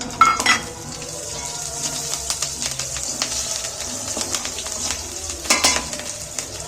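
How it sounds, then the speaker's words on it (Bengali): Chopped garlic and green chillies fry in oil, a soft sizzle broken by sharp clinks and scrapes of a utensil against the pan, with a louder clatter near the start and end. "রসুনের কুচিটা একটু ভেজে নিয়ে ফের দুটো কাঁচা লঙ্কা কুচিয়ে দিয়েছি"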